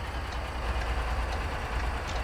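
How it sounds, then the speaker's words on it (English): A train in the game American Truck Simulator rumbles by with a steady low roar and faint rhythmic clatter, continuous and fairly close, no voices. "I hear a train."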